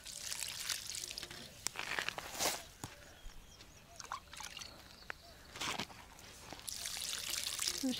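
Water mixed with milk and a few drops of iodine is poured onto tomato plants in a village garden, giving soft intermittent splashes and trickles in short bursts, fairly faint and close.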